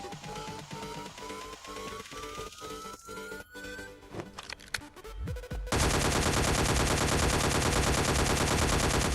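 Gunfire in the ScarFall 2 mobile shooter on its Mumbai map, with rapid automatic bursts and scattered single shots that build into a dense, continuous roar of heavy firing.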